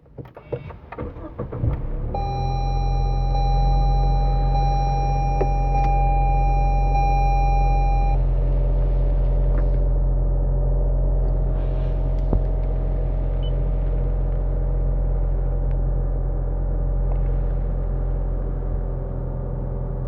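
A Lexus RC 200t starts up and settles into a steady idle, a low continuous hum with a few electronic chime tones over the first few seconds, heard up close with no speech.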